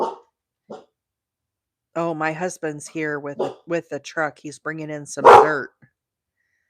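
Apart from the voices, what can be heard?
guard dog barking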